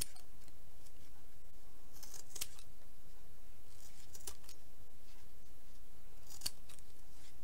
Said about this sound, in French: J'aime bien travailler avec le petit ciseau, moi.